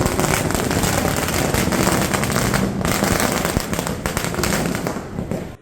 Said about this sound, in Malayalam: പടക്കം പൊട്ടിക്കുകയും ചെയ്തു.